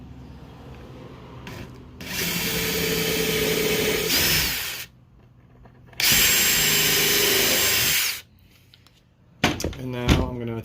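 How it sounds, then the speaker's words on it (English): A power drill bores screw holes for hinges in oak while building Shaker doors, with two loud sustained drilling runs of about two seconds each, separated by quieter pauses and followed by brief handling clatter. "I'm going to drill my screw holes for my hinges."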